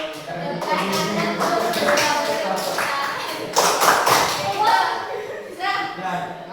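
A classroom group chants together while patting shoulders and elbows and clapping hands in a repeated rhythmic game, with steady pats and claps mixed under loud group voices throughout.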